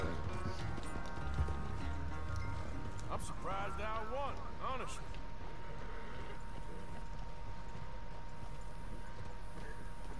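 Horse galloping in the video game Red Dead Redemption 2, a steady clip-clop of hooves running under game music and someone talking throughout.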